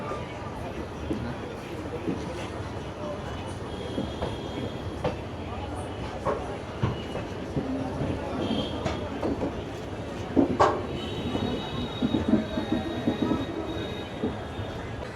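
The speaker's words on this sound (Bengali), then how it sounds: "শিয়ালদা জয়নগর গঙ্গাসাগর এক্সপ্রেস তার প্রথম স্টপ নৈহাটি জংশন, ছাড়ছে" Sealdah–Jaynagar Gangasagar Express with LHB coaches pulling away, a steady broadband rumble of wagons rolling on rails with occasional wheel clatter and louder bumps near the end, heard from on board.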